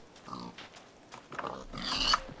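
A pig grunting and oinking in a video game, several short nasal snorts with a louder burst near the end, close and fairly quiet.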